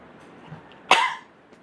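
A single short, harsh cough rings out close by in a quiet room, with faint background noise before and after.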